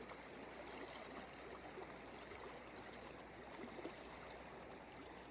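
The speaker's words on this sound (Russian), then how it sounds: "И река." A mountain river flows in a steady, even rush of water. It sounds faint and distant, continuous and unbroken, with no voices over it.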